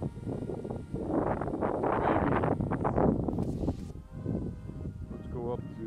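Wind blowing outdoors during a DJI Spark drone takeoff: gusty buffeting wind noise on the microphone rising and falling loudly, with someone speaking over it and a faint high whine near the end.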